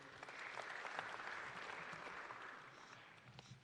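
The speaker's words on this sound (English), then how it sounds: "let's clap hands for our presenters for the last time" An audience claps for presenters at a survey launch meeting, a steady, dense patter of applause throughout with no voices over it.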